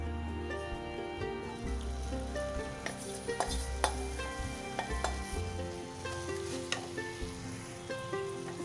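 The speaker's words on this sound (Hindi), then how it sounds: "लो फ्लेम पे सारी चीज़ों को मिक्स करते हुए हम इस मिक्सचर को तब तक भूनेंगे जब तक ये पूरी तरह ड्राई ना हो जाए" Muesli mixture with jaggery and ghee roasting in a pan over a low flame, stirred steadily: a continuous soft sizzle with frequent scraping and clinking strokes, close and even, running throughout with no talk.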